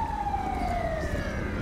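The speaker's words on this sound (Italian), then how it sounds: "Ok, ne arriva pure un'altra di ambulanza." An ambulance siren in the GTA 5 video game wails with a slowly falling tone over low traffic rumble, steady and fairly loud, with no talk.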